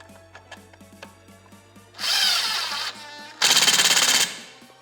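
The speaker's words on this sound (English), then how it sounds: "Okay, so now I'll use my impact and then hold the other side." An impact driver with a number 3 Phillips tip drives a screw on a Minn Kota Ultrex trolling motor in two loud ratcheting bursts, the second harder and more hammering, with light clicks and handling noises before them.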